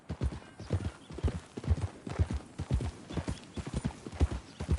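Horse hooves clip-clopping in the Western video game Red Dead Redemption 2, a brisk, even rhythm of close, hollow hoof strikes at a walking pace, steady throughout.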